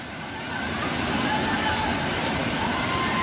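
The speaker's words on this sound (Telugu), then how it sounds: "friends Sarayu Baahubali water falls" Sariya waterfall near Devarapalli sends down a steady, broad rush of falling water. The roar is loud and even, swelling slightly in the first half second, and no one speaks.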